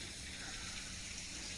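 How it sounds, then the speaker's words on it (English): Water flows steadily out of an old coal mine opening set in rough, porous concrete at a southern Cahaba coal field site, a constant faint broadband rush with no breaks and no voices. "That's why you got this water coming out."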